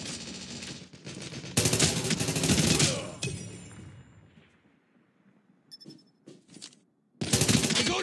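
Bursts of automatic gunfire in the mobile shooter Call of Duty: Mobile, frontline mode, loud and dense for the first few seconds, dropping to sparse distant shots and quiet, then another loud volley at the end.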